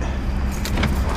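Keys jangle close by in a short, bright metallic burst with a louder shake near the end, over a low steady background hum, with no talking.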